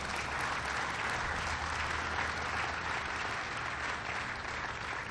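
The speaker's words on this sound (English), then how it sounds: "Dr. Shang Shu, let's give him a round of applause." A crowd applauds steadily at the topping-off ceremony of the SolarCity GigaFactory, dense clapping at an even level from start to finish, with no voices standing out.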